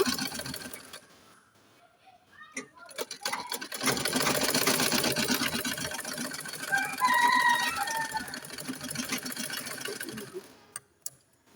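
A sewing machine runs in a long continuous burst stitching a kameez neckline, preceded by a few clicks and handling noises and ending with short taps; loud and close, with a brief whir near the end.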